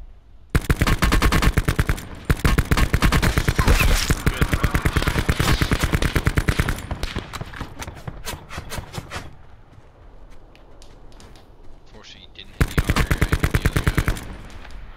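Rapid automatic gunfire in a shooter video game, long loud bursts of closely spaced shots with short pauses between them, fading to quieter sporadic shots before a final loud burst.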